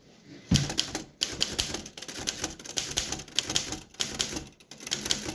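Typing on an Underwood 11 manual typewriter, a fast run of sharp key strikes with irregular rhythm, close and clear, with occasional pauses and no talking.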